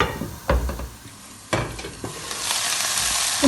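Chow chow (chayote) pieces for a Kerala-style thoran sizzle in a pan as they are turned over, with a few sharp spatula knocks against the pan and a steady frying hiss close by.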